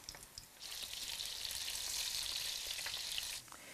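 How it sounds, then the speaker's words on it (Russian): Meat cutlets hit a hot pan and start frying, a steady bright sizzle that swells quickly, holds loud and close for a few seconds, then drops off abruptly. "Котлеты выкладываю на раскаленную сковородку."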